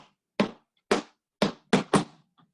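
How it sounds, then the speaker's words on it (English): Five sharp percussive tap dance stomps on a hard floor, spaced unevenly in a swinging pattern with a quick double near the end, close and alone. "So that quick stomp, stomp is what gives you that swing feel."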